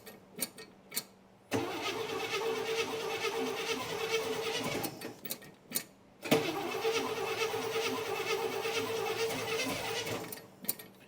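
An old car that has sat off the road for 16 years tries to start: a short burst of cranking, then the engine catches and runs roughly, dies with stuttering cranks, and fires again into a sustained uneven run, close and loud.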